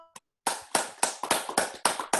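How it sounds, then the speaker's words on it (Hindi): Rhythmic, evenly spaced claps, about seven sharp hits after a brief pause, welcoming a guest at an Ashtavakra Geeta talk, close and clear with almost no voice. "तो सब तालियां बजा करके पत्री जी का स्वागत करेंगे"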